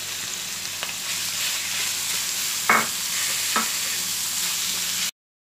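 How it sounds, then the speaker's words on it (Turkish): Minced meat and chopped onions frying in a pan, a steady loud sizzle with a few brief scraping stirs, running alone until it cuts off abruptly near the end. "Suyunu salıp çekene kadar kıymamızı kavurdum."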